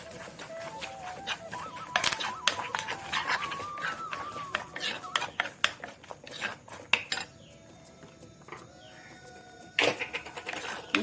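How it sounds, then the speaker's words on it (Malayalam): Chili powder is stirred into a mango pickle, with a spoon clattering and scraping repeatedly against the vessel. Animal calls carry in the background. "നല്ലപോലെ നമുക്ക് ഇളക്കി കൊടുക്കാം."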